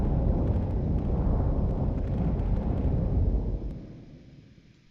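A missile barrage in a video game produces a heavy, rumbling roar of explosions that holds steady for several seconds, then fades away.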